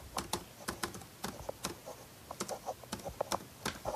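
Quiet typing of a password on a computer keyboard, a quick irregular run of light key clicks with short pauses, close and soft.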